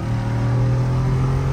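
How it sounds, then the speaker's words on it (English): A Jeep 392 with an AEV lift, driven by Lynn, accelerates with a steady, fairly close engine drone that holds and slightly climbs in pitch over a short stretch, no talking. "we got Lynn driving the 392 for the first time"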